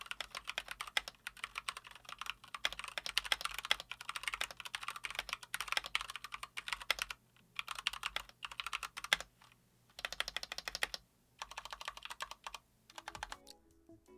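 Keystrokes rattle steadily on an Epomaker LK67, a compact 65% board, in fast continuous runs with short pauses, close and clear, with no talking.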